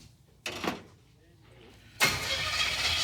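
A junkyard Chevy Tri-Five V8 cranks with a short starter whir, pauses, then catches and settles into a loud, steady running rumble, close by.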